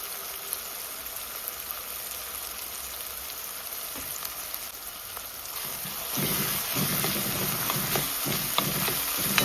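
Tomato paste frying in a pan, with a steady crackling sizzle throughout. The sizzle grows louder and denser partway through, with occasional stirring scrapes.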